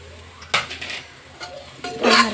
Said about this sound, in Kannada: ಇವಾಗ ಪಪ್ಪಾಯ ಕಾಯಿನ ಹಾಕ್ಕೋಬೇಕು.